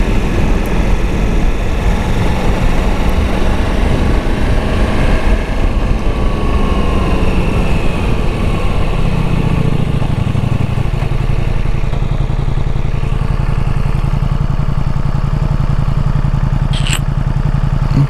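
A Ducati Multistrada V4 motorcycle engine drones steadily while riding, with wind rush over a loud, continuous mechanical hum and a slight rise in pitch partway through.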